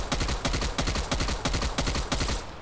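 A KSP semi-automatic weapon in Call of Duty Cold War fires about eight evenly spaced, loud shots in quick rhythmic succession, each with a sharp crack and short tail.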